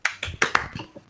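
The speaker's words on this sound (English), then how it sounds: "Why you guys raised your hands and clapped?" A small group claps in a few uneven, close bursts of hand claps over about a second, the strokes landing loosely rather than in unison, with no talking.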